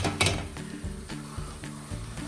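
Ground beef frying in a pan at home for tacos, a steady close sizzle with faint rhythmic scraping and clinks of a utensil breaking up the meat.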